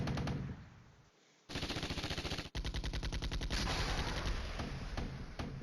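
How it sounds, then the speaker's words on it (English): Sustained rapid gunfire from a modern Cold War tank battle in the wargame Flashpoint Campaigns: Red Storm, with dense automatic bursts and a brief lull and sharp break partway through, loud and alone. "Here they are firing 2 kilometers away when there's bad guys in their face."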